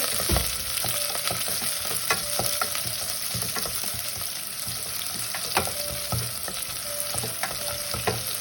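Continuous crackling sizzle of spices, onion and chili tempering in hot oil for fish curry, steady and close, with occasional sharper pops and stirring scrapes throughout.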